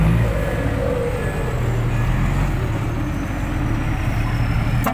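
A dump truck engine rumbles steadily up close while a thin, high turbo whistle hovers faintly above it.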